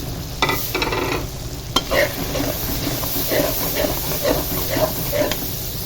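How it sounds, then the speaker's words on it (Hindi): Tomato masala with chili, turmeric and salt frying and being stirred in a pan, a steady sizzle with scraping spoon strokes and soft clicks throughout, close and alone. "ये देखिए मिर्चें हमारी अच्छे तरीके से इसमें भून ली हैं"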